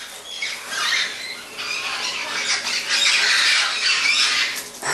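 Pet store birds, including African species such as senegal parrots, squawking and chattering continuously at close range, harsh bright calls overlapping with no one talking.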